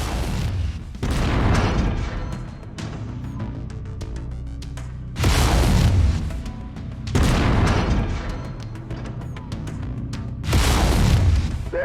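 Heavy mech weapons in MechWarrior 5 fire at an enemy cockpit, repeated loud booming blasts in several bursts with rumbling impacts and crackling between them, close and powerful, no talking.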